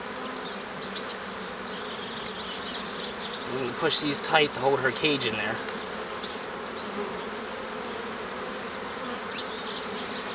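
Honey bees buzz steadily around an open hive during requeening, a dense continuous hum with someone speaking over it as he works the frames and queen cage.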